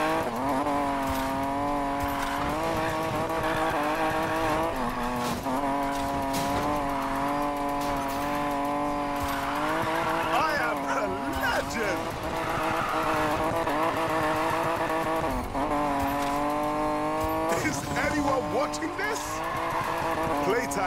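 Car drifting in Need for Speed Payback: a loud, sustained engine drone with long wavering tire squeals that rise and fall across the slide, running continuously without a break.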